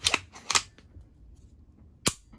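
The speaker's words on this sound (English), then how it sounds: "So the trigger breaks." A mil-spec rifle trigger breaks with sharp, close mechanical clicks, a quick pair of snaps followed by a single crisp click a moment later, quiet and alone without talking.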